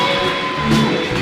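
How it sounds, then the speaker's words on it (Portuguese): Audience at a live talk event bursting into brief applause and cheering, a short, loud wash of crowd noise with a rising whoop. "Salva de palmas para Thales Gomes!"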